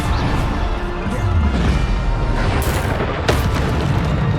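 Bombarda blasting spell going off in the Hogwarts Legacy video game: a loud, sustained rumbling explosion that fills the whole stretch with deep booming crashes, close and heavy, with no talking.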